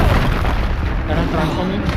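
A loud, booming Confringo explosive spell blast in the game Hogwarts Legacy, a short, dense rumble heard up close and mixed with a voice.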